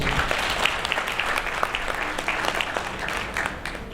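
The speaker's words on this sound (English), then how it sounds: "Please let's give him a big round of applause." An audience at a general meeting applauds warmly, a dense, sustained roll of many hands clapping at close range that continues evenly for several seconds before easing slightly at the end.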